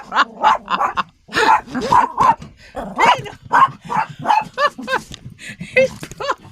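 A dog at a motorhome park barks and yips repeatedly in quick, uneven bursts, close by and fairly loud, with no talking.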